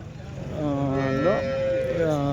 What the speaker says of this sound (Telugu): ఎక్కువ టాప్ క్వాలిటీలో ఉన్న హెచ్ఎఫ్ ఆవులు జెర్సీ ఆవులు ఇంగ్లీష్ బ్రీడ్ ఆవులు అయితే ఎక్కువ వస్తుంటాయండి